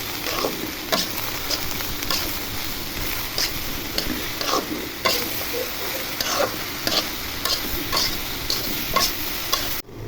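Pointed gourd and potato frying in a pan, stirred with a utensil, produce a steady close sizzle under frequent clicking scrapes and taps that continue for several seconds before cutting off abruptly.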